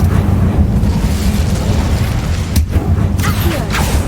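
Incendio fire spell bursting in the Hogwarts Legacy video game, a continuous loud roaring rumble of flame and blast with dense low-end noise and a couple of sharper crackling bursts near the end, no speech.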